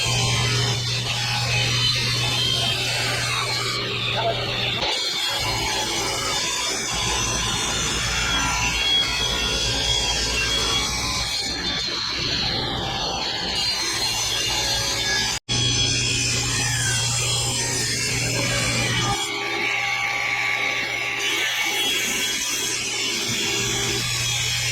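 A power saw cuts wooden lumber to length for porch railing spindles, running loudly and continuously at close range, with repeated cuts and a brief break partway through.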